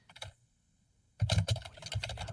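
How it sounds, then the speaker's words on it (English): Someone types fast on a computer keyboard, a dense burst of close, clattering keystrokes after a brief quiet pause. "she's on her computer typing away furiously"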